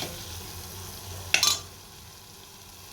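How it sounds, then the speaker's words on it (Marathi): Masala being stir-fried in oil, a soft steady sizzle with a brief louder burst of spattering as it is stirred partway through, then settling back to a quiet fry. "तर आता मस्तपैकी मसाला मी तेल सुटेपर्यंत त्याला चांगलं परतते."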